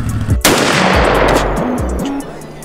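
One loud, close gunshot fired at a TV: a sharp crack followed by a long, noisy decay, with a low, uneven rumble underneath.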